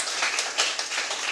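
A short burst of dense, lively hand clapping from a church congregation at a Sunday worship service, rapid and uneven, filling the space without any talking.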